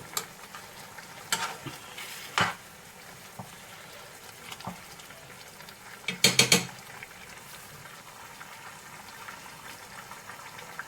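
Chicken simmering with spices and a little water in a pan, a low steady bubbling hiss broken by a few sharp scrapes and clinks of a spoon against the pan.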